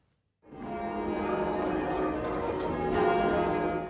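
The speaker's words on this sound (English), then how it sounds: "the ceremonial chimes of St Dunstan's will herald a new significant chapter in the country's history" Church bells ring out from St Dunstan's Church in Cranbrook, a dense, continuous peal of overlapping bell strikes, loud and full, beginning abruptly after a short silence.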